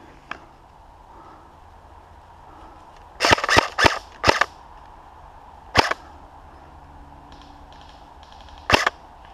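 Airsoft gun shots during an outdoor airsoft game, sharp snapping pops in a quick burst of about five around the middle, then two more isolated shots later, fairly close against a quiet background.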